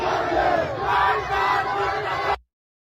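A large protest crowd in the streets of Tehran, Iran, shouting and chanting together in a dense, continuous roar that swells and holds steady before cutting off abruptly.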